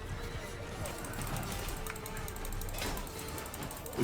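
A horse in the medieval game Mount & Blade II: Bannerlord whinnies over the dense thud of running hooves, set against a busy background of battle noise and a voice in the mix.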